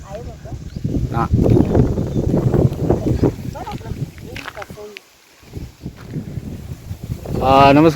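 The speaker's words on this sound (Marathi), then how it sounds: "चारी बाजूने असा वाऱ्याचा जोर असा आवाज येतो धो धो करून आवाज येतोय" Strong wind in a Konkan village before rain buffets the microphone with heavy rumbling gusts while someone talks over it.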